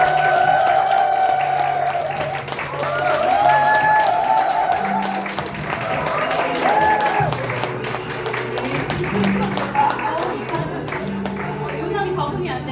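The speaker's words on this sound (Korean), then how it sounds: "큰 박수로 환영해 주시기 바랍니다." An audience claps in applause to welcome a speaker at a corporate lecture event, a dense sustained clatter filling the whole stretch while music plays and a voice speaks over it.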